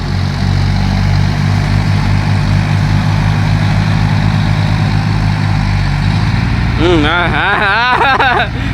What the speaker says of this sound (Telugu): నా సౌండ్ కన్నా మా ట్రాక్టర్ సౌండ్ ఎక్కువ వస్తుంది